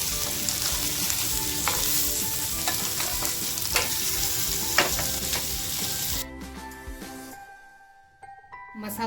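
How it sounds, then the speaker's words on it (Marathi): Black pomfret frying in an oiled pan and being flipped, giving a dense, close sizzle with scraping stir clatter that cuts off abruptly partway through, leaving a quiet simmer with faint clinks. "ती मच्छी जी फ्राय करायला ठेवली होती ती सुद्धा आपण आता पलटी करून घेऊया"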